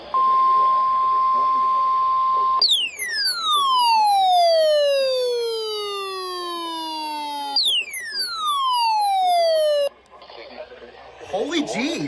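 A NOAA weather radio runs its weekly test: a steady high tone, then loud repeating falling electronic sweeps that stop abruptly, with faint noise at the end.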